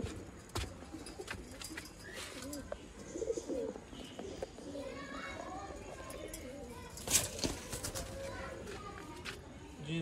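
Red-eyed breeder pigeons coo repeatedly in low, throaty bursts, mixed with scattered chirps and rustling nearby, with a voice talking intermittently underneath.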